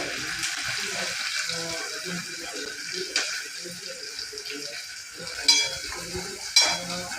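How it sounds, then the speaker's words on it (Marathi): Sliced onions cook in a pan for egg bhurji, a soft steady sizzle beneath someone talking, with occasional sharp stirring clicks against the pan. "आता मी हे कांदे घालते कापलेले शिजवून घेते"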